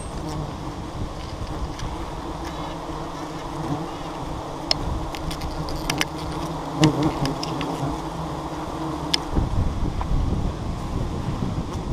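A swarm of wild jungle honey bees buzzes steadily around a hive in a forest tree, with wind noise and a few sharper buzzes as insects pass near.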